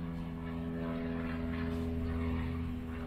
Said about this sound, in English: Is the helicopter going by?